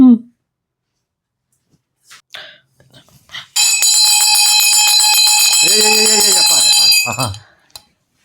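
A bell rung indoors to summon someone at home gives a loud, harsh, continuous ringing for about three and a half seconds, preceded by brief talk and ending in a short clatter.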